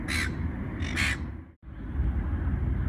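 Gulls give two or three harsh, squawking cries close by at a carp-fishing lake, over a steady low rumble of traffic and aircraft noise.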